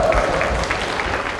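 Crowd at a bare-knuckle fighting event applauding, a rough, uneven patter of clapping over a murmuring hall with some low rumble.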